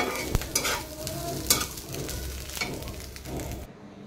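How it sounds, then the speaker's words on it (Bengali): Fish sizzles and spatters in a hot frying pan, a steady crackling hiss broken by sharp pops and stirring scrapes, close up with no voices. "মাছগুলো ভেজে নিতেছি"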